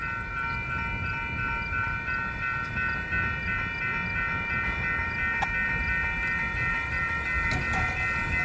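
A long Union Pacific-led freight train led by NS #1143, UP #5398 and Union Pacific #1655 rolls past with a steady heavy rumble, sustained droning locomotive tones and occasional metallic clanks, no talk.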